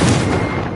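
A Confringo explosive spell goes off in the video game Hogwarts Legacy, a single loud, booming blast with a heavy low rumble that fades quickly.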